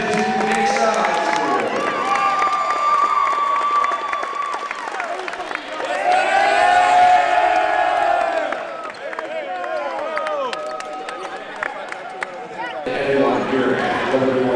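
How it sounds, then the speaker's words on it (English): A crowd at a 2022 Liberty North Invitational high school basketball tournament applauds and cheers for champion Nixa High School, with a sustained, loud wash of clapping and shouting mixed with voices throughout. "please give a huge round of applause to the 2022 Liberty North Invitational Tournament champion presented to Nixa High School"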